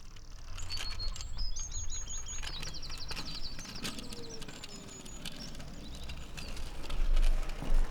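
A bird chirps in short bright bursts of tweets and trills outdoors, some calls close and some farther off, over a steady rustling background with no talking.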